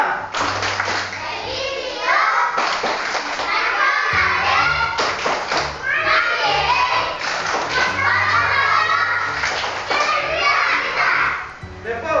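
A classroom of children perform the PPK clapping routine, with rhythmic group claps and thumps mixed with loud chanting children's voices throughout.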